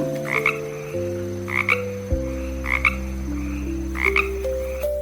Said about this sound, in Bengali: উমতে ব্যাং, ব্যাং ডাকে